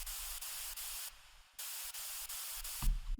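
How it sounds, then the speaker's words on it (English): A synthesizer white noise layer preset plays in hissing bursts, cutting in and out in a quick rhythm with short gaps and a faint low thump near the end. "It's just simple white noise and it sounds like this."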